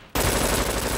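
Rapid automatic gunfire in the video game Brink bursts in loud after a brief quiet moment and continues as a dense, continuous rattle.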